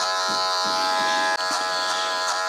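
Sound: Super Taper electric hair clipper cutting hair

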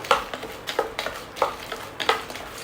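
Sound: makhana (fox nuts) lightly roasting in a pan on low flame

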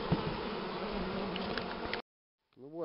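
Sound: honeybees buzzing while being driven out of a hive

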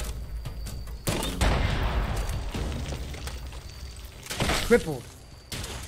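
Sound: gunfire in the video game Fallout 76

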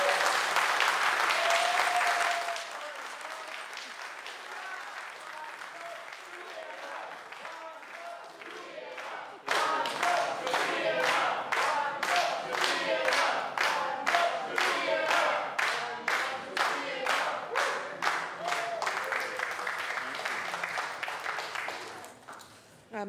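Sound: applause at city council meeting

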